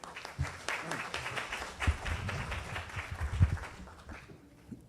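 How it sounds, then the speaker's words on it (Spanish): Audience at a congressional conference on a new criminal law applauds a speaker, steady moderate clapping that fades out toward the end, with some voices underneath. "un fuerte aplauso, por favor"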